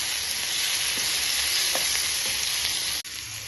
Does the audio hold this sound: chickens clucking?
no